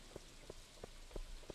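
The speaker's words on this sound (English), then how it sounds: "it's a rainy day, so very few people will be out" Steady rain in the Stardew Valley game hisses softly throughout, with regular low thumping beats recurring roughly every third of a second beneath it.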